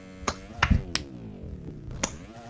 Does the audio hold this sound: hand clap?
yes